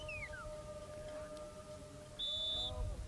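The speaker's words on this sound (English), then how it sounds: "Now they're going to get a whistle." A referee's whistle shrills for about half a second at a high school football semifinal, over a steady low tonal hum and distant crowd murmur, with brief faint gliding whistle tones at the start.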